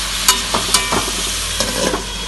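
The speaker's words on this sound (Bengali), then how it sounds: "এবার ভালো করে নাড়াচাড়া দিয়ে একটু ঢেকে রাখবো।" Pumpkin and small fish curry being stirred in a pan, a few scraping strokes of the spoon over a soft steady sizzle, close up and with no voices.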